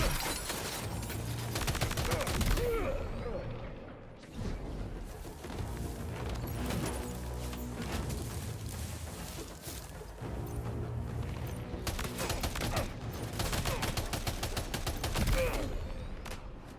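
Sustained gunfire in Death Stranding 2: loud rapid bursts of shots, broken by a few brief pauses, fill the whole stretch.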